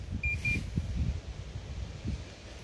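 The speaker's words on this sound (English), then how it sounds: "Now the machine has beeped" An AS 940 RC remote-controlled machine gives two short electronic startup beeps close together near the start, over a low mechanical hum and rumble.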